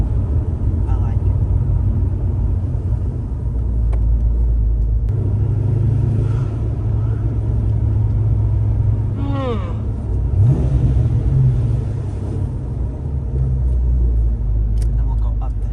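A 1995 Ford Mustang GT V8 runs with a steady, loud low rumble throughout, with a brief rise in revs near the middle; people talk over the engine at times.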